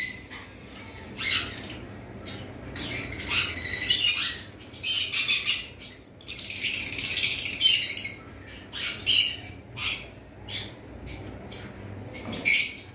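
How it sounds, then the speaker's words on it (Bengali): Pair of caged lovebirds, a lutino red-head opaline hen among them, squawking and chattering in shrill, close bursts of harsh repeated calls with brief gaps between them. "এখানে তো আমাদের কাছে 2 পিস লাভবার্ড রয়েছে।"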